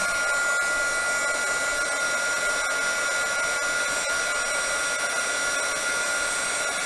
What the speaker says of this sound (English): Sorry if this heat dryer is noisy